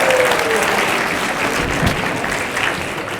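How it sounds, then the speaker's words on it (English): A crowd at a live leadership keynote at William Patterson University gives a big round of applause, dense and loud, sustained throughout without pause and easing only slightly toward the end. "Now give yourselves a big round of applause for being awesome."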